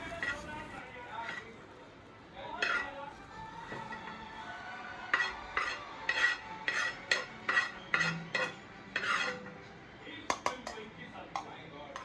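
Repeated metallic scraping and clinking of a spoon against a steel jar, a quick irregular series of scoops with soft kitchen noise and some talking.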